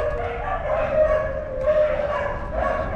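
Several dogs bark, yip and whimper continuously at an old abandoned hospital, a loud nearby pack with rising bursts of yelping and no clear talk over it.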